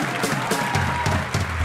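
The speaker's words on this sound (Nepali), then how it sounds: "एकचोटि जोरदार ताली" An audience at a Nepali comedy show claps in a brief, dense burst of applause, steady and fairly loud throughout.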